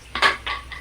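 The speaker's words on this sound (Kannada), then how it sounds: "ಟೊಮೆಟೊನ ಕಟ್ ಮಾಡಿಬಿಟ್ಟು ಹಾಕ್ಕೊಳ್ತಾ ಇದ್ದೀನಿ" Two chopped tomatoes drop into a hot cooking pan for palak dal tadka, a quick close pair of wet clattering hits and a brief sizzle, all within a second.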